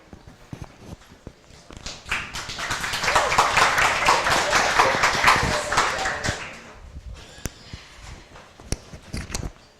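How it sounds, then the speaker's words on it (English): An audience at a telemetry workshop claps for the next presenter, a dense burst of applause swelling from about two seconds and fading out after six, with a few scattered claps before and after. "Assume that clapping was for Robert."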